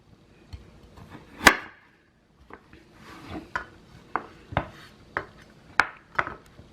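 A knife chopping food into quarter-inch cubes on a board for vegan mac and cheese, a series of crisp, irregular knocks, close and alone with no talk.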